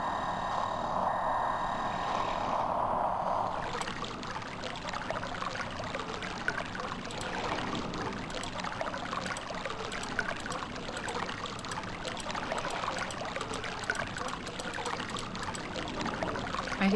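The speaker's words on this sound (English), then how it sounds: "Yeah, water." Water flows steadily in the video game Myst, a continuous rushing trickle, with a brief tonal hum at the start and no talking.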